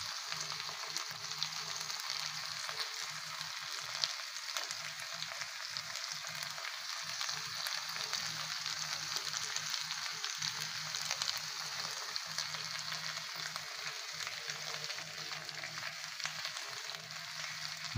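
Pieces of Labeo calbasu fish fry in a pan with a continuous, even sizzle of hot oil, faint and steady with no stirring or voices.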